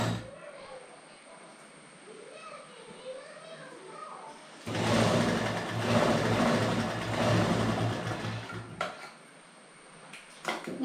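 A sewing machine stitches the leg seam of pyjama pants. A quiet stretch with talking gives way to a loud, steady motor whir lasting several seconds, which then stops abruptly.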